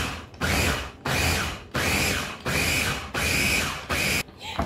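Food processor pulsing cubed butter into a coarse meal, five loud motor bursts of about half a second each, separated by short pauses, with no talking.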